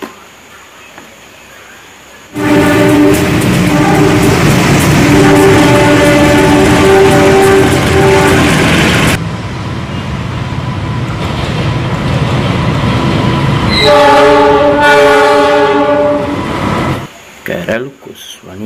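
A loud KRL commuter electric train in Indonesia roars past with steady rumbling and whining tones, then a brief horn-like blast sounds near the end; loud and close.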